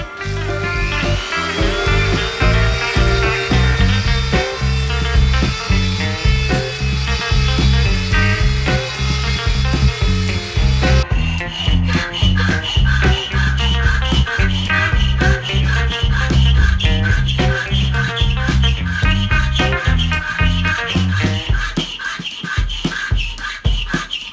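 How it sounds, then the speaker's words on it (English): A Dremel rotary tool grinds material off a metal part for a classic Doctor Who prop held in a vise, a loud continuous high whine that shifts pitch as it bites, close up. "I'm going to use the Dremel. I'm just going to go around and slowly remove some material."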